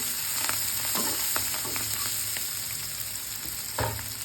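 Ingredients roasting in a pan for Rayalaseema-style egg curry: steady close sizzling and frying, with occasional stirring scrapes and clinks, and no talk.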